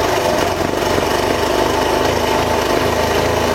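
A Suzuki DR 125 motorcycle engine runs without the choke, a loud, rough buzzing idle with pulsing revs rising and falling close by.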